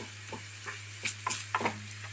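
Chili powder and salt with garam masala being stirred into a mixture in a pan, soft sizzling beneath a few quick scraping strokes of a spoon, close and fairly quiet.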